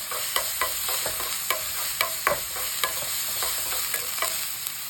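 Pizza ingredients seasoned with pepper and sugar being mixed in a sizzling pan, a spoon scraping in irregular strokes over a steady hiss of frying, with no talking.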